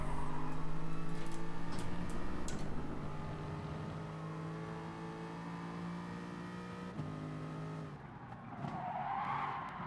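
Race car tires skidding as an Aston sports car steps into unexpected oversteer on a first lap at night, a steady loud engine drone with harmonic whine underneath, a brief squealing burst near the end as the car slides.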